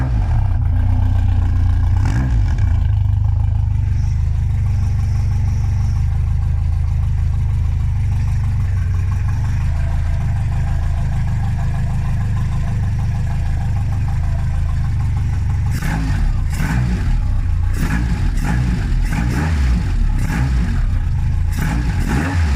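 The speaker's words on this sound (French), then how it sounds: "Petite vidéo du moteur en route." A Renault Clio RS engine runs steadily at close range, a low sustained rumble with a few sharper revs and clatter toward the end.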